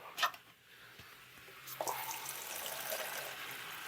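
Tap water running into a cooking pot with pork stew meat, a soft steady rushing pour with a few splashy bursts, faint and close.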